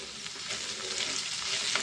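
Ivy gourd (dondakaya) pieces with salt and turmeric fry in a pan, a steady close sizzle with occasional stirring scrapes and no voices.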